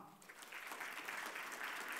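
A hall audience at an award ceremony for the Patria Nostra historical competition, Mazovia edition, applauds as a dignitary steps up; the clapping is a soft, continuous patter heard from a distance.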